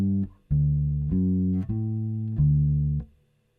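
Bass guitar plays blues chord tones in a swing feel, with four deep, sustained plucked notes in a steady, bouncing rhythm, sounding clean and close before ringing out.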